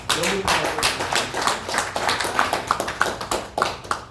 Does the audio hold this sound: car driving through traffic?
no